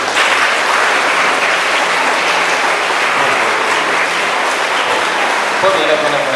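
Audience applause at a school science expo for National Science Day, a loud, dense, steady clapping from a large crowd sustained throughout without pause.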